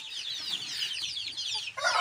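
Shamo and Aseel gamefowl cluck and chatter in a rapid, overlapping series of sharp calls, close and fairly loud, with a brighter outburst near the end and no talk.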